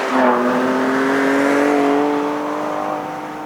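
A 2024 Ford Ranger Raptor engine revs loudly through its active exhaust, a steady rising drone that holds for a few seconds and then eases off, with no talk over it.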